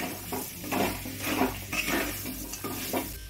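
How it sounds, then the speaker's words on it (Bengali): Fried potatoes, pointed gourd and rice are stirred in a frying pan, with rhythmic scraping of a spatula against the metal over a light continuous sizzle, close and fairly loud, no voices. "একটু নাড়াচাড়া করে নেব 2 থেকে 3 মিনিট।"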